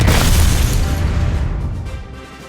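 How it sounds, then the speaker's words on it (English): Tank shells fire and explode in the Tank Wars video game, giving a single loud, deep boom that decays over about two seconds. "Shells fire."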